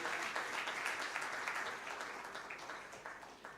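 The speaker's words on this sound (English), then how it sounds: "big round of applause" An audience at a symposium on data analytics and artificial intelligence gives a steady round of applause for panelists, even clapping that carries on throughout and slowly fades at the end.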